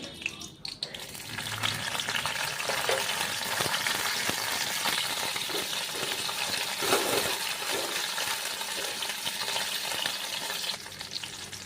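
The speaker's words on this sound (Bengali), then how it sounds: "প্রথমে কাজু আর কিশমিশটা ভেজে নেব" Cashews and raisins fry in hot ghee in a pan, giving a steady close sizzle with occasional stirring scrapes and light clinks, no talking.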